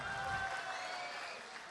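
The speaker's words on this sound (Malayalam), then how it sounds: "നല്ല ഒരു കൈയടി" Audience applause at a Malayalam comedy stage show, a steady wash of clapping from a crowd that stays fairly even and fades slightly toward the end, with a faint tonal hum in the background.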